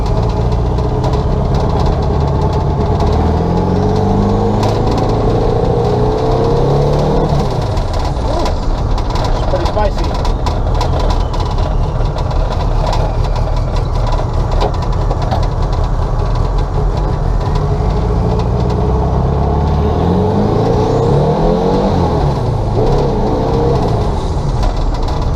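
Turbocharged 1967 Volkswagen Beetle engine pulling hard through the gears while driving, a loud, steady drone with rising and falling revs that continues without a break.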